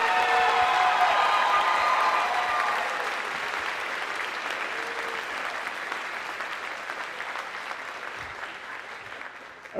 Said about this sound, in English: Give a round of applause for all the seniors